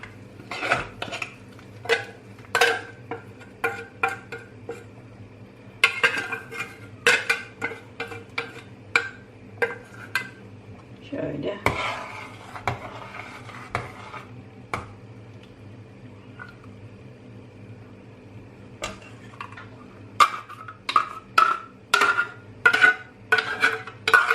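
Fried onions go into a simmering pot of Anatolian pantry-staple soup and get stirred in, bringing repeated clinks and scrapes of a spoon against the pot in uneven bursts over a faint steady hum.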